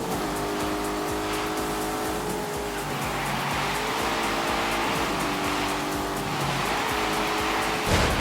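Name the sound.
car engine started and driving in snow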